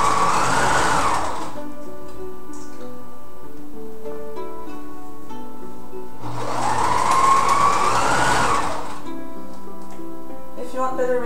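Sewing machine stitching a seam on a cocktail dress, running in two steady whirring bursts of a second or two each, separated by a quiet pause.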